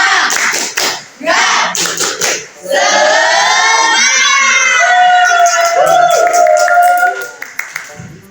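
Schoolchildren in a classroom clap and chant the tepuk semangat cheer in rhythm, loud and close: bursts of clapping first, then sustained shouted chanting with voices rising and falling.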